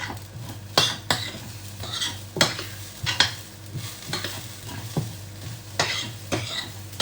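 Coconut oil sizzles in a pan while vegetable biryani is cooked, a soft steady fry under repeated sharp clinks and scrapes of a utensil stirring against the pan.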